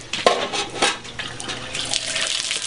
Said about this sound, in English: we're going to go ahead again and give that end a really good soaking